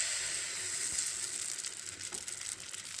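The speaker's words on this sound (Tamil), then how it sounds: "இனி நம்ம இதை அப்படியே மாவை ஊற்றிடலாம்." Cholam paniyaram batter sizzles and fries steadily in a hot, oiled paniyaram pan, a close, continuous crackle with no talking.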